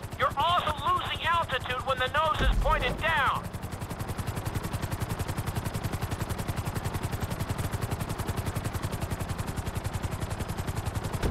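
A helicopter in GTA 5 flight school runs with a rapid, steady rotor chop that carries on throughout, while a voice speaks over it at first.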